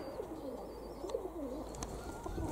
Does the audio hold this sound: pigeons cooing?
yes